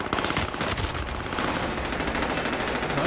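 Rapid automatic gunfire from the video game Modern Warfare 2 rattles continuously in a loud, dense, sustained burst with no talking.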